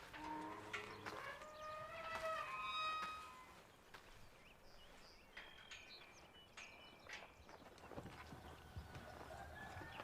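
A horse's hooves clip-clop in a few quick, scattered knocks, fairly faint, alongside bright whistling bird-like tones early on and a steady low outdoor background.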